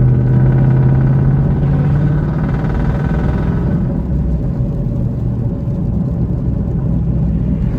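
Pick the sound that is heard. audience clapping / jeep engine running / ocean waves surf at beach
jeep engine running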